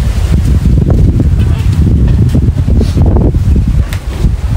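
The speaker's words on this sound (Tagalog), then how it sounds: "malakas ang hangin" Strong wind with rain roars steadily into the microphone outdoors near a shelter, a dense rumbling buffeting that barely lets up throughout.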